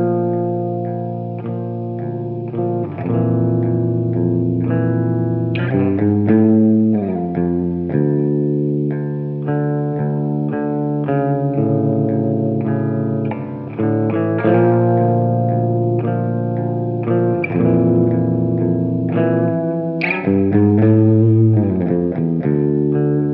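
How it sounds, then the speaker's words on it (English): An electric guitar plays sustained chords and melodic lines through a Smallsound Bigsound Buzz octave fuzz overdrive, giving an aggressive octave-fuzz tone washed in a large plate reverb, steady and loud throughout. "we're gonna be using the Smallsound Bigsound Buzz Overdrive. So this is an octave fuzz, super aggressive."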